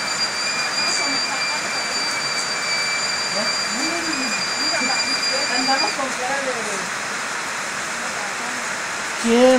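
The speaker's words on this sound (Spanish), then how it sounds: "Una buena llovida cayendo por acá." Heavy rain falling in Hermosillo, Sonora, beside an outdoor cooking fire, a steady broadband wash throughout with scattered voices talking over it.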